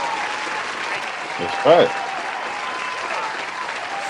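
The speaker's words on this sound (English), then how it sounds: "Round of applause for not learning how to play" A brief burst of audience applause at a casual show, rising for under a second amid ongoing conversation, with a voice speaking over it.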